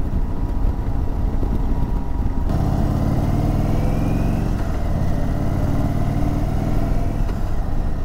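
A 2022 Indian Super Chief motorcycle engine pulls hard under acceleration, a loud, steady low rumble with rising tone and a gear change partway through, heard close up with no talking.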